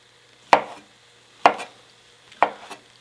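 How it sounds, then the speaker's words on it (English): Kitchen knife chopping mushrooms on a cutting board: three crisp, evenly spaced chops, close and clear, each with a short knock, alone without talk. "I'm going to go ahead and cut a few more"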